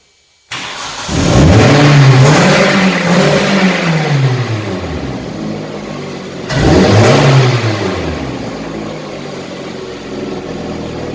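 A car engine in an automotive engine maintenance class cranks and starts after parts are installed, revving loudly up and down, settling, then revving again in a second surge before running steadily, close and without talk.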